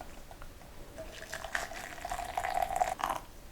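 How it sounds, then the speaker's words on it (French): Boiling water is poured into a container set on a kitchen scale while making seitan broth, a close trickling and splashing stream that builds in pitch and level over a few seconds. "Je tare ma balance et je rajoute 200 ml d'eau bouillante."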